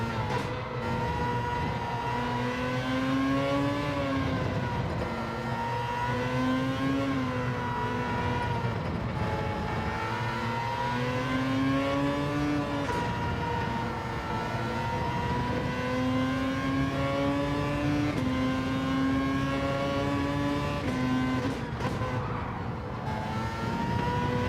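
Gr.X race car engines roar in Gran Turismo 7 lobby racing, a loud continuous whine with rising and falling revs as gears shift, steady throughout with other cars' engines blended in.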